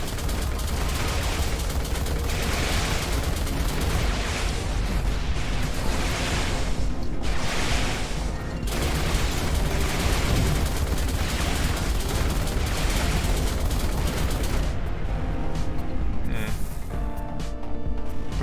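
Space combat in Everspace 2 as a hostile freighter opens fire, with sustained loud bursts of rapid gunfire and repeated blasts rolling over a constant rumbling engine roar.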